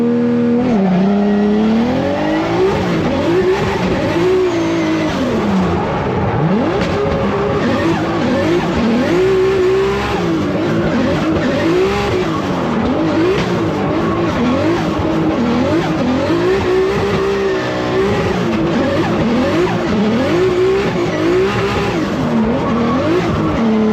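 A 632 big block BMW driven hard with tires squealing in long wavering howls over a loud, continuous engine roar that rises and falls, close and sustained with no talk.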